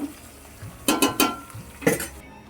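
A spice mixture with curry leaves being fried and stirred in a pan for tomato upma, with a few distinct scraping clinks of a utensil against the pan over a faint background sizzle.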